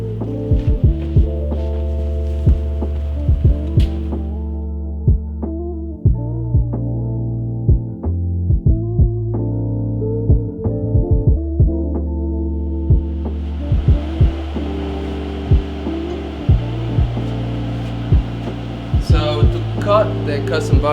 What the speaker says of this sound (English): We are cutting custom boxes on the CNC